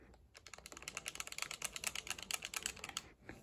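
Buttons are clicked and mashed in rapid bursts during a Super Mario course: a dense, close, fast clatter of clicks runs for about three seconds, loud and without speech.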